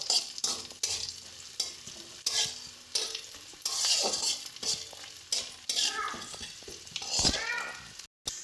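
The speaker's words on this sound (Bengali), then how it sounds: "দেখো পেঁয়াজটা আমাদের সুন্দর মতন ভাজা হয়ে এসছে।" Onion and dried chili sizzle in a hot pan while a spatula stirs and scrapes in repeated strokes, with clinks against the pan and a voice talking over the frying.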